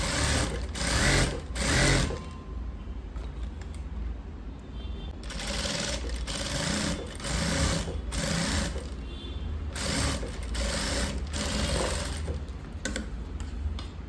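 A sewing machine stitches piping onto a lined blouse in a tailoring class, running in short, fast bursts of rapid mechanical clatter with quiet gaps between them and no talking.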